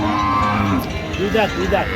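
Dairy cows and calves, including Jersey calves, moo at a busy cattle market in Ambari, Dinajpur; a loud, close, drawn-out low moo is followed by shorter calls over a background of crowd murmur.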